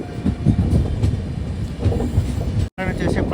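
A Janshatabdi Express train rumbles into Tenali Junction, wheels clicking steadily over the rails with a loud, close rolling roar and a brief break near the end, while a voice talks faintly over it.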